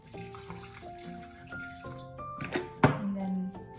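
Water pouring into a blender jar of peanut butter sauce ingredients, a short splashy gush with a thunk partway through, close and fairly quiet, no talking.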